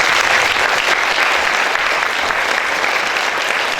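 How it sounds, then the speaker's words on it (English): A conference audience at an ASEAN community forum gives sustained, even applause for four panelists, a dense wash of clapping heard close and continuous. "I call all of you to give a round of applause to our four panelists"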